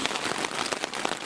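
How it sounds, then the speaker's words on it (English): Heavy rain drumming steadily on a tent in the woods, a dense close patter of drops with no voices. "I've awoken to heavy rain falling on the tent"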